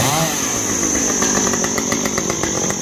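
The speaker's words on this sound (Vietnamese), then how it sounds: "Hiện tại thì anh Cường đang cưa mấy cái cây" A chainsaw cuts through mango trees, its engine snarling loudly and continuously at high revs throughout.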